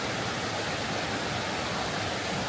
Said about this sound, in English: Filming the stream.